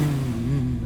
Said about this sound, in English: you hear a pickup truck pull out in front of you guys